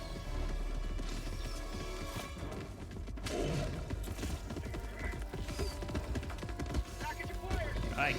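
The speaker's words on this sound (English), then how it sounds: "I can hear the charger footsteps." Heavy stomping footsteps of a charger monster in the Helldivers 2 video game, a dense rumbling tread of thuds amid clanking mechanical battle noise, steady and moderately loud.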